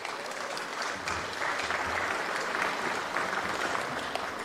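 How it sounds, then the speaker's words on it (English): Sustained applause fills a hall at the 2019 Prime Minister's Pacific Youth Awards as an award winner is announced, an even, dense clapping with no voices over it, heard at moderate level. "the winner is Janelle Augsburg. A round of applause."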